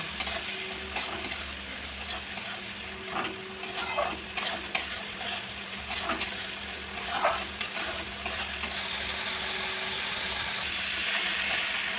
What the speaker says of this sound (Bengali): এই মশলাটাকে ভালো করে কষিয়ে নেবো